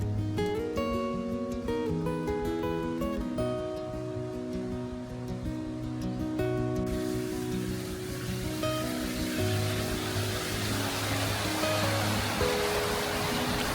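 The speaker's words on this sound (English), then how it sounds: "The water bubbles up from more than 350 feet below the Earth's surface." Spring water rushes and splashes from a spring in a constant, full hiss; soft music plays over it at first before the flowing water continues alone.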